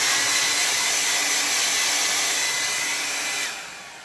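A hair dryer blowing over a freshly painted watercolor landscape of a Victorian home makes a steady, loud, close whoosh for several seconds before quieting slightly near the end.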